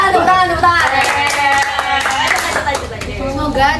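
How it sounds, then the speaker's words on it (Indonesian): A group claps at the close of a school class presentation, a lively run of hand claps mixed with talking voices layered over it. "Semoga Tepuk tangan."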